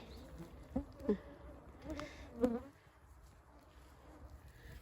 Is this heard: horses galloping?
no